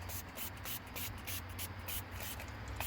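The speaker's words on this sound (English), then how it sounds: "So I'm going to spray this throughout the storage area here" A spray bottle of MustGo odor remover is pumped repeatedly in a storage area, giving a run of short, faint hissing bursts at a fairly even rhythm.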